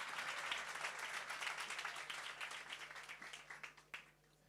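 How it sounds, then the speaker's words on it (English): Attendees at a workshop and expo in KwaMashu give themselves a round of applause, sustained dense clapping at moderate level that fades out over the last half second. "please give yourselves a round of applause"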